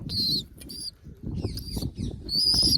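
Pigeons kept by a pigeon fancier flap their wings in quick bursts close by, with sharp chirping notes cutting in over the fluttering.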